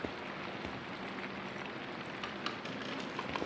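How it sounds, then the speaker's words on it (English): Rain in the medieval-style video game Pentiment, a steady, even hiss of falling drops with light scattered pattering, soft and continuous throughout with no voices over it. "I love the sound of rain."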